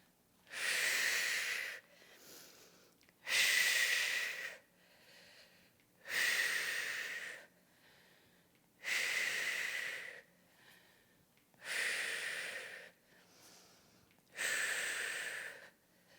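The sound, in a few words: breathing during exercise, inhaling and exhaling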